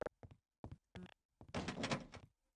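Sharp mechanical door clunks and a longer grinding slide sound out alone in Half-Life: Opposing Force, several short knocks followed by a loud scraping rush.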